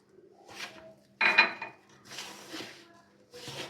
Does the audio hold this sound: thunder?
no